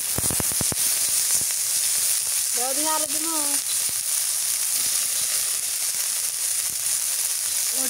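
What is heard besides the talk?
small river shrimp sizzling in hot oil in a wok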